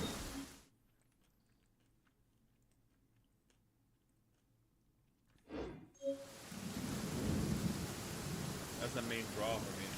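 Thunder in a video game rumbles in after a quiet stretch, with a sharp crack followed by a rolling, rain-like wash of noise that stays loud to the end.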